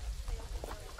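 Rain in the zoo-building video game Planet Zoo, a soft continuous patter of drops with low rumble underneath, fairly faint and steady, with no one speaking.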